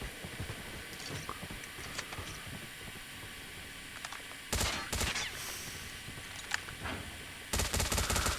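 Short bursts of SMG fire from the MSMC in Call of Duty Mobile ranked play, rapid rattling volleys around the middle and end, fairly faint over a steady hiss of game background.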